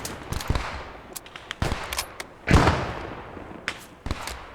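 Gunfire in a World War II shooter game set at the Maginot Line, scattered sharp shots and bursts with one heavier blast midway, irregular and fairly loud.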